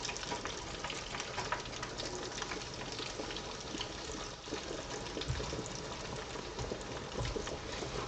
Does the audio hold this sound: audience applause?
no